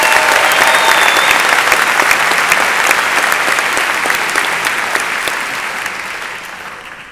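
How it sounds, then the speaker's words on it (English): Sustained audience applause at a Long Beach State of the City address, loud dense clapping that slowly fades over several seconds. "Let's give them a round of applause."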